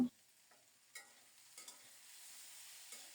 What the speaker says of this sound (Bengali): নেড়ে চেড়ে ধনে পাতাটাও মিশিয়ে নেব তারপরে নামাবো